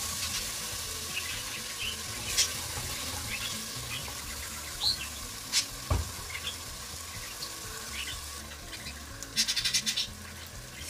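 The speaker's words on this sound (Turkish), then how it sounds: "Bir iki dakikada bu şekilde kavuracağım." Peppers and onions sauté with tomato paste in a pot, giving a steady close sizzle with scattered scrapes and clicks of stirring throughout.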